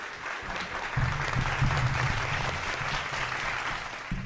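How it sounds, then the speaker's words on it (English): Audience applause for a team at a budget event, a steady moderate round of clapping from a hall crowd with faint voices underneath. "please give them a big round of applause"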